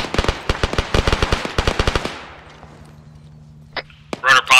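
Bursts of suppressive automatic gunfire in the military video game ArmA 3, a rapid string of loud, close shots for about two seconds that then cuts off, followed by a low hum and a brief voice near the end.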